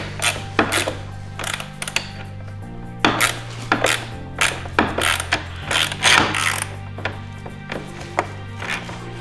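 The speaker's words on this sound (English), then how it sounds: "using 17 millimeter ratchet and wrench, snug up the new hardware" A 17 mm ratchet and wrench snug up new hardware on a RollerSki mount, giving a run of quick metallic clicks and clanks in uneven bursts over a steady low hum.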